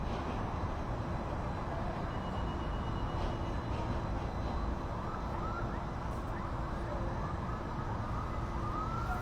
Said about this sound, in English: I can hear multiple sirens out in the background.